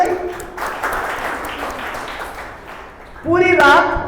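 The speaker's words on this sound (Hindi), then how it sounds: "ताली बजाइए।" A church congregation claps in a steady, moderate round of applause that tapers off. A voice then starts speaking loudly over the fading claps.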